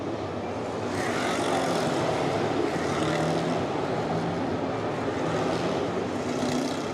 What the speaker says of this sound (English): the cars are rolling on this formation lap